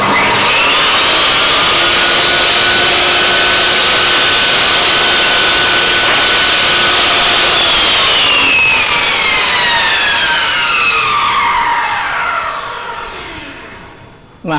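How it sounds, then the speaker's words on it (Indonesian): A Bosch GTS 10 J table saw with soft start runs loud and close, its blade motor holding a steady whining hum before winding down and fading as the blade coasts to a stop. "pas kita hidupin itu dia itu udah ada soft startnya. Jadi pas mulai putaran pisau itu dia pelan"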